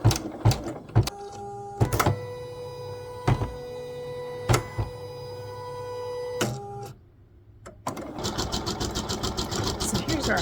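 A b79 embroidery machine stitches out a design. It gives a humming drone punctuated by sharp intermittent clicks and thumps, then settles into a fast, steady, rhythmic stitching chatter.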